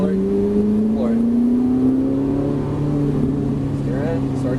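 Ferrari 458 Italia accelerating on a Las Vegas race track, its engine note rising steadily in pitch as it pulls hard, loud and close from inside the car, with an instructor talking over it.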